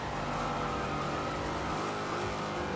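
A classic muscle car in the racing game Forza Horizon 2 drifts under power, its heavy engine roaring steadily with a thick low rumble and faint tire noise, loud and continuous throughout.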